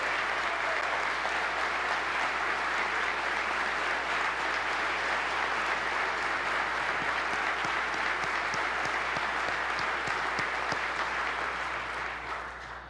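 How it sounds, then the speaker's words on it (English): A large audience claps in sustained, steady applause at the 2014 State of the State Address for over ten seconds before it begins to fade. "let's give a round of applause for the Jacktown Vector team"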